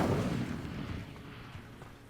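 An Incendio fire spell cast in a Harry Potter video game, a deep rumbling whoosh of flame that starts loud and fades over about two seconds.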